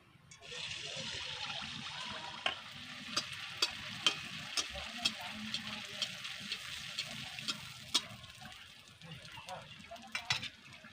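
Malpua batter frying in hot oil in a home kitchen, a steady loud sizzle and bubbling throughout, with sharp light clicks and taps of a utensil against the pan at irregular intervals.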